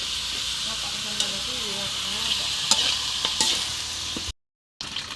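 Tinola cooks in a pot on the stove, a constant bright sizzle and hiss with a few sharp clinks of stirring, broken by a brief cut of silence near the end.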